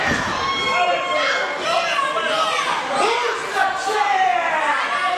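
A noisy wrestling crowd in the video game Super Shogun Wrestling, a continuous loud din of shouting and chatter filling the arena, steady throughout.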